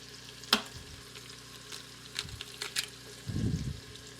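A couple of eggs are cracked straight into a hot pan of peppers and beaten in it. A sharp crack is followed by scraping and stirring over a low, steady sizzle, with a louder burst of frying near the end.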